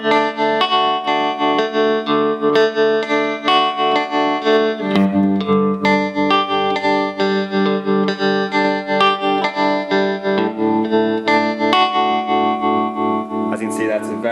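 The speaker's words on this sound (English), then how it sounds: "we're going to have a look at the tremolo. I'm going to turn it on at the foot switch." A 2002 Fender Twin guitar amp plays clean guitar chords through its tremolo at high intensity and slowest speed, the tone pulsing steadily in volume, loud and continuous.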